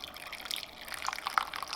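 Hot boiling water poured into a pot of chili con carne, a soft, close trickle and splash that rises slightly toward the end, with no talking.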